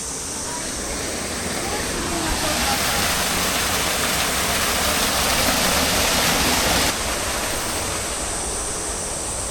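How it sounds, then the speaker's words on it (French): Steady rushing splash of fountain water pouring down a wall at a patio, a dense continuous wash that swells louder midway then eases back slightly, with faint voices underneath. "je crois que c'est juste une fontaine qui coule d'un mur"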